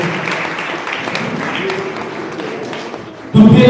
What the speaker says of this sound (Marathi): सर्वांनी अतिथीचं टाळ्या वाजवून या ठिकाणी तिचं अभिनंदन करायचं आहे.